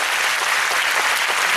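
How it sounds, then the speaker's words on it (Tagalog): A church congregation breaks into loud, dense applause, many hands clapping together in a steady unbroken roar that fills the hall. "Malakas na palakpak po."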